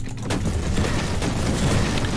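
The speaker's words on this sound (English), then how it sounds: "Cyclone missile launcher strike" Cyclone missile launcher strike in the Warhammer 40,000: Inquisitor video game, a dense, continuous barrage of rapid blasts and rumbling impacts that stays loud and steady for the whole stretch, with no talk.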